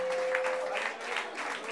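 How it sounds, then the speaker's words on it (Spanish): Dense, continuous applause from a church congregation fills a short stretch of an evangelistic service at steady loudness, with no speech over it. "Deme el aplauso al Señor."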